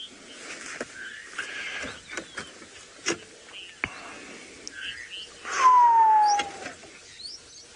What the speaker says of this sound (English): Very, very noisy. As we can hear. Screaming away.